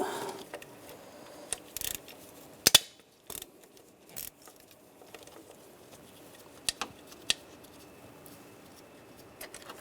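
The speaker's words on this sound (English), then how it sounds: "Using a T30 socket, I'm going to take these bolts out." A ratchet wrench fitted with a T30 socket works bolts loose on a 2006-2009 Mercedes-Benz E350 during power steering pump removal. Scattered sharp clicks and short ratcheting bursts sound over a quiet workshop background, with no talking.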